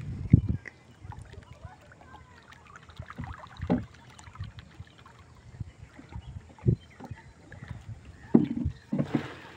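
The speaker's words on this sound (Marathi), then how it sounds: "विघ्नेशच्या होडीचा स्पीड हा 20चा, 20च्या स्पीडने चढली आहे होडी" A small motor boat belonging to Vighnesh runs along a river past Patkarwadi, with soft water splashing and lapping against the hull and occasional louder sloshes over a low, quiet background.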